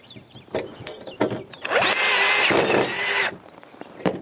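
A power drill drives a Tek screw into steel tubing. It whirs in a few short bursts, then gives one sustained grinding run of about two seconds as the screw bites. It is loud and close, with some rattling handling before and after.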